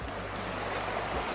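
A creek in Pine Valley, Utah rushes as a steady, broad wash of flowing water, close by and uninterrupted, with no talking.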